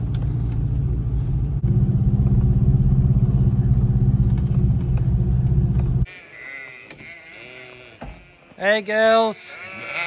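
Sheep bleating on a farm in the mountains of Norway, several loud close calls in the last few seconds after a steady engine drone, with a person calling out to the flock.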